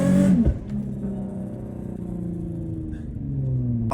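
A car at an Atlanta car meet revs hard as the driver dumps the clutch: a loud, steady engine roar with a sharp burst at the start and a rising drone near the end, with no talk.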